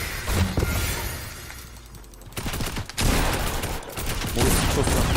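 Loud bursts of Fortnite gunfire with sharp cracks and shattering impacts, a rapid volley early and again after a brief lull, filling most of the clip.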